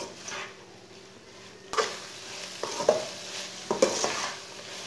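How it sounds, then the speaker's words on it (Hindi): Spinach and chana dal with garam masala being stirred and fried in a pan over medium heat, with a soft steady sizzle and several spoon scrapes and knocks against the pan. "अब इसे 3 मिनट के लिए भून लेंगे।"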